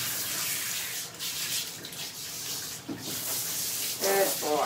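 Water sprays steadily while rinsing a Coton dog during its bath, a continuous hissing flow that briefly shifts as the stream moves around the neck and collar.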